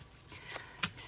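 Tarot cards being shuffled by hand during a reading, a few soft riffling bursts, close and fairly quiet, with no talk over them.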